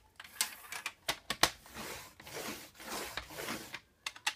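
A scoring tool is drawn across heavy 160 to 250 gram paper to make a fold line, giving quiet, close scratchy strokes and sharp little clicks in an irregular series.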